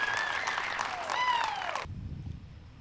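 Applause from spectators at a women's disc golf final after a parked drive, brisk clapping mixed with whistles and cheers that cuts off abruptly partway through, leaving a quieter murmur.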